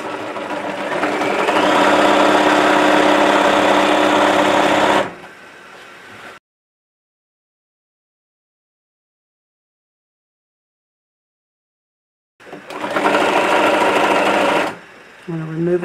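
A sewing machine stitches a denim tote bag in a loud, steady run of about five seconds, then goes silent, then starts again in a second burst of about two seconds near the end.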